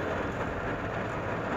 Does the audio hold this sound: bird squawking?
no